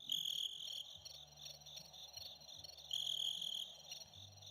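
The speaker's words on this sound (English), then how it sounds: "Crickets, right?" Cricket chirping from a novelty joke gadget, a high, steady, pulsing trill in two louder bursts with a low electronic hum beneath, no voices.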